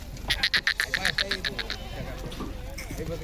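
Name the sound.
goats on a farm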